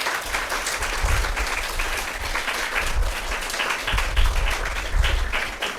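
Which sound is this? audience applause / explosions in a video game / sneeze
audience applause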